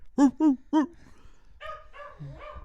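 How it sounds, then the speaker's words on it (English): A dog gives three loud, close barks in quick succession, then a few softer whimpering yips follow with quieter tonal sounds. "Bark if the Jays are going to win the World Series."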